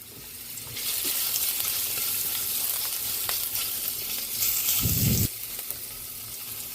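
Sliced ginger dropped into a little hot cooking oil for chicken tinola, a bright sizzle flaring up and holding steady with a few stirring knocks.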